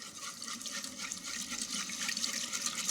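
Liquid poured out of a pan while making turkey stuffing, a continuous gurgling, splashing pour at moderate distance, with no talk over it.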